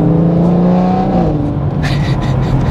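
BMW M140i engine pulling hard with a quick gear change, a loud droning note that dips and resumes, followed by brief crackles and pops in the final second.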